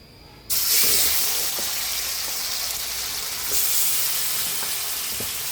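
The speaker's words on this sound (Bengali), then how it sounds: "মাংসটা ভেজে আমি রান্না করব, কারণ ব্রয়লার মুরগি তো" Broiler chicken meat frying in a pan: a sudden loud sizzle bursts in after half a second of quiet and holds as a steady, close hiss, with faint stirring clicks scattered through it.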